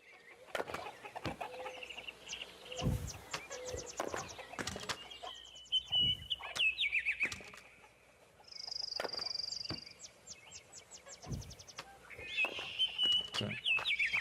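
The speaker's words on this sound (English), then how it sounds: "Chickens!" Chickens in the video game Black Book cluck and squawk in scattered bursts, with wing flaps and other clattering game sounds mixed in, moderately close.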